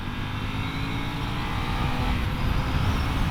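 A Ducati Scrambler Desert Sled motorcycle pulls in second gear, giving a steady droning engine and wind roar at a moderate, constant level throughout the short stretch.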